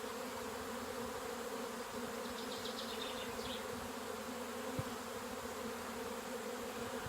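Bees buzz in a steady, faint, continuous drone outdoors on a sunny day, with a brief trace of high bird chirping partway through.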